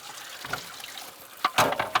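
Water is emptied out of a container on a small farm with chickens, coming as a faint trickle and then a few short splashy pours near the end, with no voices.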